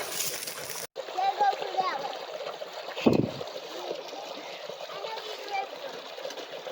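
Stream water flowing hard outdoors, a steady rushing wash with occasional splashes under the voices of adults and someone talking, plus a sharp knock partway through.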